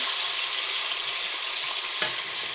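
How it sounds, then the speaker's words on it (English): Sofrito sizzles steadily in hot oil in a pot while cooking for Puerto Rican arroz con gandules. The frying hiss is close and even throughout, with one faint clink partway through. "Then I add in the sofrito. Cook a little bit."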